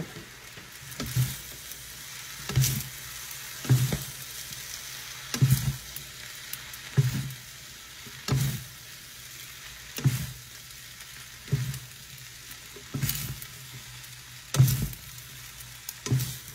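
Bihon noodles stirred in a pan with a flat ladle, each scoop giving a scraping stir about every second and a half over a steady frying sizzle, close and fairly loud, with no voices.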